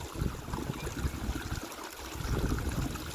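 Spring-fed irrigation pipe letting a low-pressure stream of water spill into a homestead pond, a faint, steady splashing trickle that runs on without a break.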